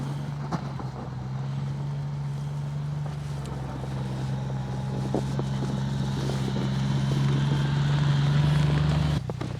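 A CFMoto U10 Pro UTV pushes snow with a KFI V-plow, its engine holding a steady loud drone that builds slightly before cutting off near the end, with wind rushing over the microphone.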